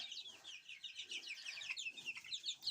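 Young chickens in a straw-filled coop keep up a busy stream of soft clucks and high chirps, close by and fairly quiet, with no voices.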